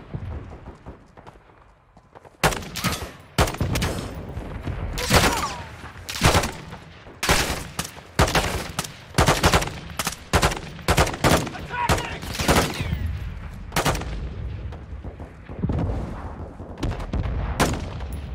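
Bursts of rifle and machine-gun fire in Call of Duty: Modern Warfare II, loud sharp cracks and rapid volleys coming in uneven clusters over about eighteen seconds, with talk occasionally heard underneath.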